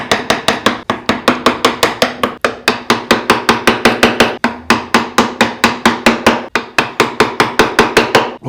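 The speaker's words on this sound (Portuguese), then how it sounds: "vou até usar o formão menor. Vou batendo até o limite, como você já sabe." A mallet strikes a small carving chisel into wood in a steady, rapid series of sharp, loud knocks, about four or five per second, close and continuous with no speech.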